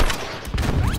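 Video game gunfire aimed at marked enemies, a quick burst of several close shots crackling over about a second.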